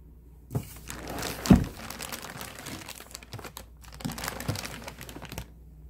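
Plastic packaging crinkles and rustles around a Cricut EasyPress 2 heat press during unboxing, with bursts of crackling, one sharp thunk near the start, then a quieter pause before more crinkling, all close up with no talk.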